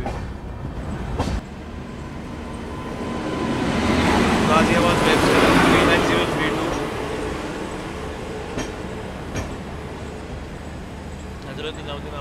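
A Garib Rath Express train with LHB coaches rumbles past, swelling to a loud roar midway and fading, with faint rail clatter and scattered clicks throughout.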